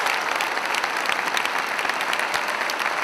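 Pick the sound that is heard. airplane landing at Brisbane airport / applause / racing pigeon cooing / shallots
applause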